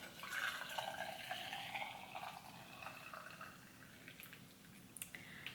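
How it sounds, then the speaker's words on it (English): Hot water poured into a tea infuser holding scooped loose almond cookie tea, a steady liquid trickle and splash running throughout at close range with no talk. "let's fill it with our hot water"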